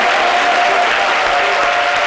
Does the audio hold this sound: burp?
no